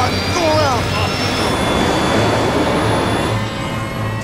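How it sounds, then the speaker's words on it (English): An aircraft jet engine spools up toward full thrust, giving a dense, loud, steady roar with a faint rising whine throughout. "I feel the thrust of the engine re-engaging full flow"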